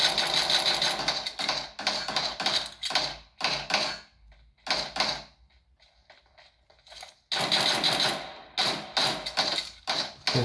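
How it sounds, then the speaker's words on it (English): Gunfire in PUBG Mobile on a phone, rapid automatic bursts in repeated clusters with short gaps and a quieter lull midway, loud and close. "Someone is shooting me."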